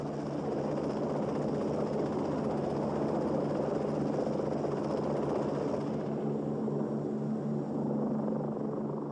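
Lockheed AH-56 Cheyenne attack helicopter holding a hover, its steady loud rotor thrum and engine whine continuous throughout, with a slight drop in high-pitched turbine noise toward the end.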